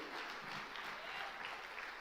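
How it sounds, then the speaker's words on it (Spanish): Church congregation applauding during a sermon, a brief, even wash of many hands clapping, fairly faint and heard from a distance with no voices over it. "dele un fuerte aplauso al Dios del cielo"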